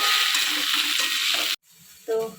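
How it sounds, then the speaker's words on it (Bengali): Potatoes fry in a pan on a home stove, a loud, close, dense sizzle that cuts off abruptly, followed by a short quieter moment and a brief louder burst. "এখানে এই যে আলু ভাজা বসিয়েছি"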